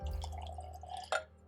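Bourbon poured into glasses, a soft trickling liquid with a brief brighter splash near the end, faint and close with no talk.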